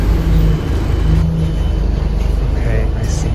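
The London A10 bus rolls up to a stop with a close, heavy engine rumble and road noise. A short hiss near the end fits its brakes, and people talk nearby.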